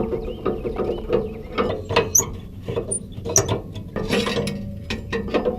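Metal pin is pulled from a tow dolly ramp and the ramp latch is undone, giving a series of close, sharp ratcheting clicks and clanks in irregular bursts, with no talking.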